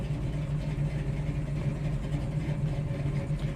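A 1971 Chevrolet Nova's big block 454 V8 idles steadily nearby, a deep, even rumble with a slightly lumpy pulse and no pauses.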